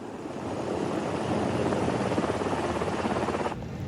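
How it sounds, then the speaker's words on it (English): A Black Hawk helicopter flying low over crowds gives a loud, close, dense rotor roar with rapid chopping pulses, steady throughout before cutting off abruptly near the end. "A Black Hawk helicopter flying low over crowds."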